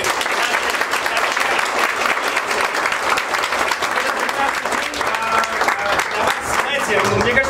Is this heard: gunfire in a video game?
no